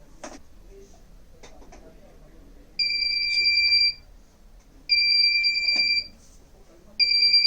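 A smoke-sensor fire alarm on a forest monitoring system sounds three times, each a loud, piercing electronic tone lasting about a second, separated by short quiet gaps, with faint background noise between.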